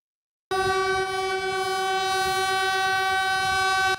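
A Puyuma express train passing an accident site blares its horn loud and close, starting abruptly and holding one steady, sustained chord for over three seconds.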